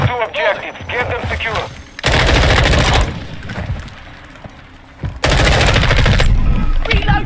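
Sustained bursts of automatic gunfire from the video game Modern Warfare (2022) multiplayer, loud and dense, in two long volleys separated by quieter gameplay noise.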